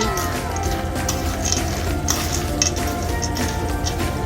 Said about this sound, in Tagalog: hinalo po natin yung sili, yung bawang sa mani